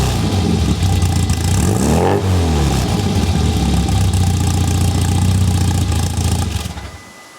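A Classic Mini's 1000cc stage 2 tuned engine revs loudly and close, rising and falling in pitch through repeated throttle blips before cutting off abruptly near the end.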